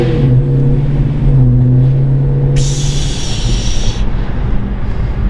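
An LSA-swapped Honda S2000 with a race valve on the exhaust runs at a loud, steady idle with a deep, rumbling tone, and a brief higher hiss cuts in about midway.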